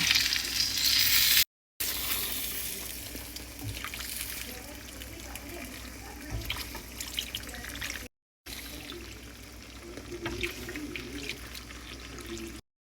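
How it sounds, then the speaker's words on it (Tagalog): Boiled stock pours into a pot of callos, a steady close trickle and splash with sizzling underneath, broken by two brief silent cuts. "ilagay na natin yung stock ng pinagpakuluan"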